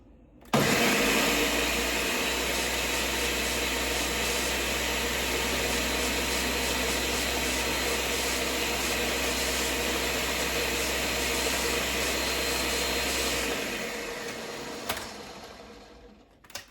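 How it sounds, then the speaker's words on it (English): Blender on its third setting grinding spinach with liquid from peas for homemade dog food, a loud steady motor whir that runs continuously for about thirteen seconds, then winds down and stops with a couple of clicks. "I'm going to put it on the 3rd setting and grind it all up"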